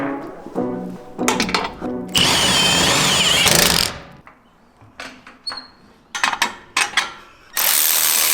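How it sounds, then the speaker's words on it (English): A power tool torques suspension bolts on a Jeep JL Wrangler during a 3.5-inch Rancho lift install, running in several loud, close bursts with short pauses between, ending in a final sustained whir. "Now we can go ahead and torque those bolts."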